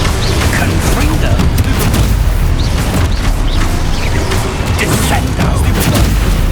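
Explosive Confringo spell cast in the video game Hogwarts Legacy, a dense, continuous barrage of booms and crackling blasts during combat, loud and close.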